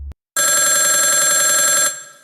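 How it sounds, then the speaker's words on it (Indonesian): A telephone rings loudly as a film sound effect, one continuous trilling electronic ring of about a second and a half that starts abruptly after a short silence and then fades. "mereka pun dikejutkan oleh suara telepon yang berdering sangat kencang"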